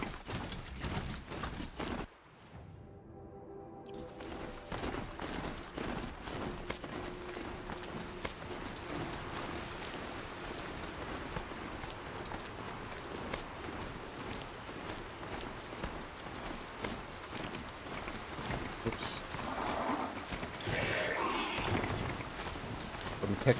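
A machine horse mount gallops in Horizon Zero Dawn with a rapid, steady clip-clop of hooves running through most of the stretch, a player talking over it at times.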